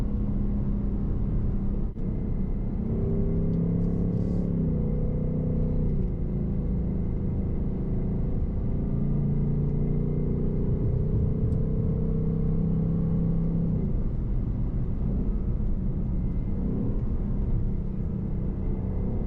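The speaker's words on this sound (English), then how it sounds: "This is a good road to drive down, especially if you want to test the shocks and the suspension and the handling." A 2024 Ford Mustang GT RTR drives along a road, its engine giving a steady low rumble and whir that swells slightly under light throttle, heard close from inside the cabin with no talking.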